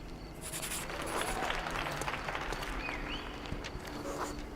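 Theatre audience applauding after the final act in a Sherlock Holmes video game, a steady crowd clapping with rising cheers that fills the whole stretch, with some talk faintly under it.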